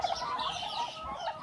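Bronze orlop turkeys cluck and chatter in a barn during feeding chores, a steady run of close, overlapping calls with no talking.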